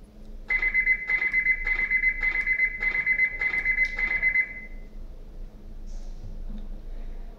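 An Arduino-controlled electronic alarm beeps in rapid pulsed bursts, about eight groups in a steady rhythm, then stops, leaving a faint hum.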